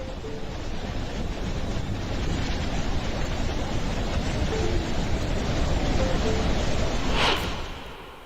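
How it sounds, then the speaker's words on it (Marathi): Water crashes down at the Chitrakoot waterfall, the mini Niagara, as a dense, steady roar with a windy rush throughout, loud and continuous before easing slightly at the end. "पाणी उंचावरून वेगानं धबधब्याच्या स्वरूपात कोसळताना पाहणं ही एक मोठी पर्वणी असते."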